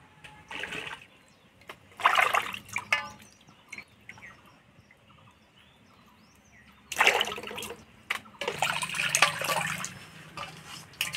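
Water splashing and trickling over cut snakehead fish pieces being washed, in two bursts separated by quieter dripping, close and moderately loud with no talk.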